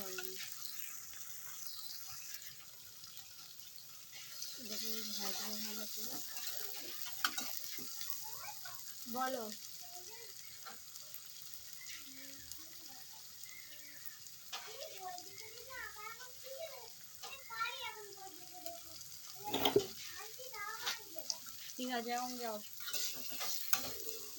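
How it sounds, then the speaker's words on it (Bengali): Meat stirred with garlic paste in a hot pan, a low continuous sizzle with scraping stirs running underneath frequent speech throughout. "এই রসুন বাটা দিয়ে মিক্স করবো যেরকম নর্মালি আমরা মাংস রান্না করে থাকি"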